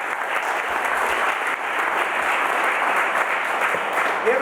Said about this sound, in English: Let's give those folks an applause.